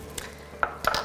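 Ingredients being stirred in an Instant Pot while cooking a low-carb keto recipe: a few quick metallic clinks and scrapes of a utensil against the pot, short and fairly faint, with no talking.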